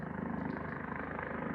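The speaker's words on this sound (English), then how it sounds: "it's a helicopter outside." A steady, low rotor drone of a helicopter, continuous and somewhat distant, with a dense rumbling texture throughout and no voices.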